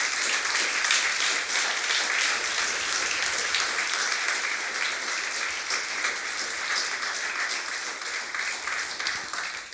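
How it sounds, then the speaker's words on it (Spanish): Steady, dense applause from a large church congregation, sustained throughout with no pause, gradually easing slightly toward the end. "Dale un aplauso al Señor"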